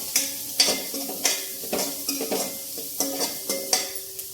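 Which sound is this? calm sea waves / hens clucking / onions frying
onions frying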